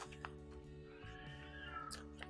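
A pet cat meowing faintly indoors, one drawn-out meow in the middle over a quiet background hum.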